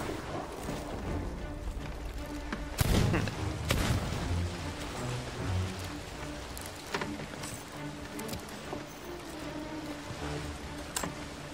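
Cannon fire aboard a pirate sloop in a video game: a couple of heavy booming blasts stand out early, followed by scattered lighter thuds over a rumbling background of sea and ship noise.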